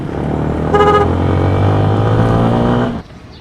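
Two tricycles on a road honking, with loud sustained horn blasts over steady motor noise, up close, with the horns cutting off abruptly near the end.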